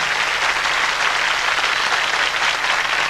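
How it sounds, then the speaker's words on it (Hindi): Steady, dense audience applause in a television studio show, continuous clapping at even volume throughout with no voices over it. "तालियां।"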